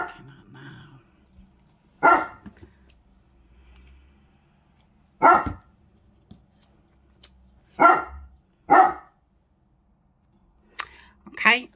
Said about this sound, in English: I don't know what he's barking at now.